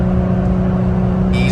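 Toyota Tacoma pickup with an overland torque tune climbing an incline after dropping a gear, a loud steady engine drone heard from inside the cab, even and unbroken.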